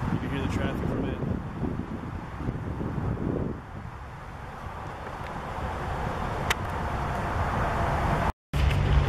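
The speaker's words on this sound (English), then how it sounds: "just on the other side of the way here is Route 322. You can hear the traffic from it." Steady road traffic from nearby Route 322 rumbles beyond a wooded Pennsylvania park trail, a constant low wash mixed with wind noise that carries on throughout.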